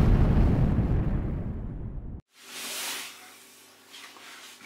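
A firecracker goes off with a loud, close burst. A broad crackling rumble fades over a couple of seconds, then cuts to a quieter hiss.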